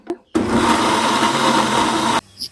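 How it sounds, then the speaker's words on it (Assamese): A mixer grinder jar whirs steadily for about two seconds as it grinds lemon pieces with a little water, a loud even motor roar that starts and stops abruptly. "এনেদৰে অলপ পানী দিছোঁ মিক্সি জাৰটোত, গুড়াকৈ পিচি ল'ম এই মিক্সি জাৰটোত"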